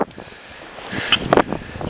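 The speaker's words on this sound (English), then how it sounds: "Very windy today" Wind buffets a microphone with a steady low roar that surges and crackles in gusts, and nobody speaks.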